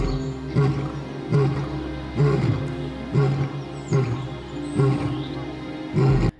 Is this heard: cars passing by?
no